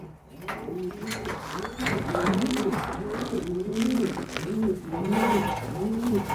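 A young pigeon squab coos in a steady run of soft, repeated rising-and-falling calls, close and fairly loud, with a faint voice and light rustling in the background.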